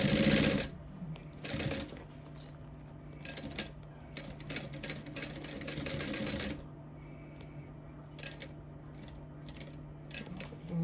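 Sewing machine back tacking a leather connector piece with a 1/8 inch seam allowance: a steady mechanical hum with bursts of rapid stitching clatter, stopping and restarting several times, close and fairly loud with no talking.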